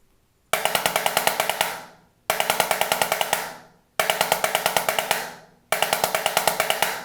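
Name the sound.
11-stroke roll drum rudiment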